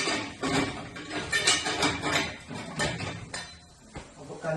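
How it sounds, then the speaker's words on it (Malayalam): A lid is set on a metal cooking pot, giving a run of close, loud clanks and clinks that clatter on and off for several seconds without talk. "അതൊന്ന് മൂടി വെക്കുന്നു"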